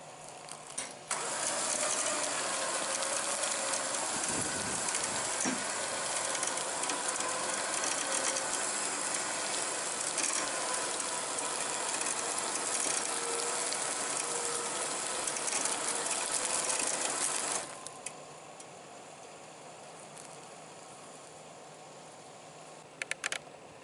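A winch mounted on a Ford Ranger strains to drag a heavy pine log, giving a loud, steady mechanical grinding and whirring for most of the stretch, then dropping to a quieter hum near the end, with no talking.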